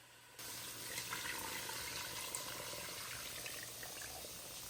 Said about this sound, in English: In the same bowl, fill it up with water.